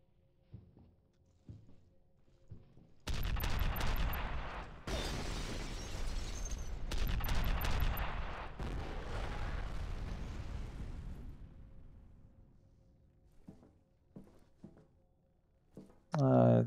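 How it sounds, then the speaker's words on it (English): A grenade launcher fires in the video game F.E.A.R., producing loud, long booming blasts that roll and rumble for several seconds one after another, then fade into quieter clicks and shuffling game sounds. "I think I should use a grenade launcher for this one."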